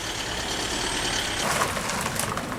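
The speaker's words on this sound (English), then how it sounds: "Oh, there's a big truck coming through." A big truck rumbles through temporary traffic lights at a roadworks site, a broad noisy roar that swells midway and hisses briefly like air brakes, close and loud.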